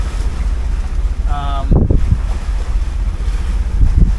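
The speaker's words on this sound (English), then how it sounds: "Looks like the wind will continue to shift through the night." Steady wind of about 10 knots buffets the microphone in low rumbling gusts, with water noise around an anchored sailboat near a reef and a brief tonal beep partway through.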